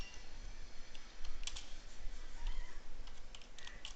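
Rapid, uneven keystrokes clatter on a computer keyboard, close and fairly quiet, with a steady low background hum and no voices.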